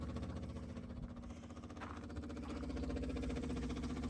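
A small pump hums steadily while draining old, varnished fuel from an ARGO 6x6 barn find into a jug, a close, even mechanical drone with a low rhythmic pulse and no talk.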